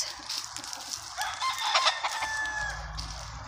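Backyard hens cluck close by, their chatter swelling in the middle. A rooster's drawn-out crow joins in, and a low rumble enters toward the end.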